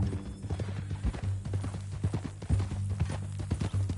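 A horse's hooves clip-clop at a steady walking rhythm in a Western ranch-themed PS4 game, distinct knocking steps over a low continuous hum.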